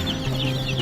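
One-day-old native chicks, just moved from an incubator into a brooding pen, peep in a busy, continuous chorus of short high chirps, close and fairly loud.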